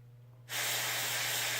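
Spray of thin black paint being airbrushed onto a custom shad crankbait: a steady, close hiss that starts abruptly and continues evenly to the end, with no voices.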